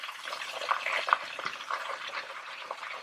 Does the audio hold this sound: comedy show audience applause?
no